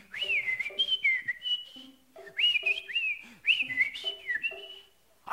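A contestant on a Filipino variety game show whistles an imitation of a bird call, repeated bright sliding phrases in short bursts with brief pauses, clear and close.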